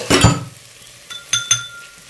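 Onions fry in a pan as ginger garlic paste is stirred in for beef kabiri rice: a soft sizzle with an opening scrape, then a few sharp spoon clinks against the pan, close and clear.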